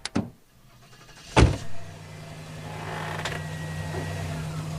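Car in a Green Hornet radio drama: sharp door clunks and a thud, then a steady low engine hum that settles in and runs on quietly to the end.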